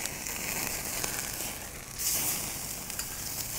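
Meat searing on a Lifedoo UROD Fire Pro portable charcoal grill gives a steady, close hiss and sizzle with faint crackles, swelling slightly partway through, with no talking.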